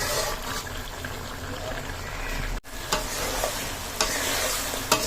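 Ash gourd sautés in a pan with a steady sizzle while a utensil stirs and scrapes through it, with a brief break midway and occasional clinks.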